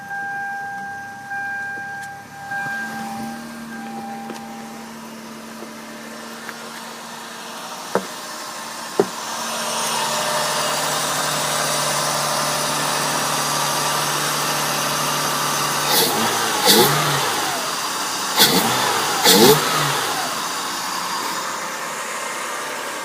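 A car engine fitted with a new cold air intake cranks and starts, then idles steadily with a rising broadband roar, followed by several sharp, loud revs near the end, recorded close with no talking.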